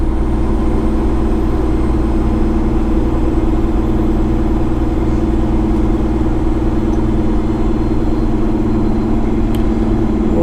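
A loaded 35-ton semi truck descends Monteagle grade at about 20 mph, its heavy diesel engine droning steadily and loud close up, with the low rumble of the jake brake held continuously throughout, no voices.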